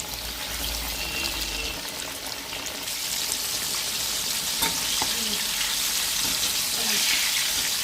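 Chicken pakora and fish frying side by side in hot oil for a sister-in-law's pre-wedding feast, a steady broadband sizzle that grows slightly louder midway, with faint kitchen clatter.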